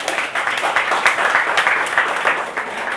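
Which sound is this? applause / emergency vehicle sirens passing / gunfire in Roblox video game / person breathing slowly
applause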